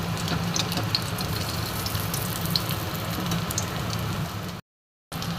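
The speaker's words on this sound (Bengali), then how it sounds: "অল্প আঁচে অল্প তেলে আমি টিকিয়াগুলো একটা একটা করে" Stale-roti tikkis shallow-frying in a little oil over a low flame, a steady close sizzle and crackle that runs on evenly with a short gap near the end.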